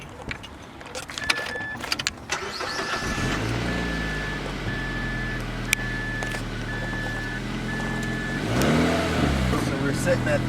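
A $450 junker car with about 200,000 miles is cranked with the key and its engine catches, settling into a steady running hum under a repeating warning chime, with some handling noise before it starts.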